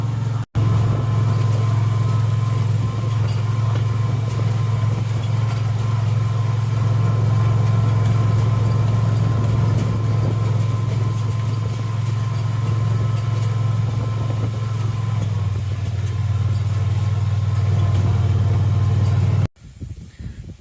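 A vehicle engine drones steadily while driving along a farm field with cover crops, a loud, constant low hum lasting nearly twenty seconds before cutting off abruptly.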